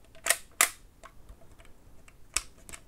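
A Holga plastic medium format film camera on the N setting, 1/100 second, gives sharp, faint mechanical shutter clicks in a quiet room, a pair of quick snaps followed by a softer pair a moment later.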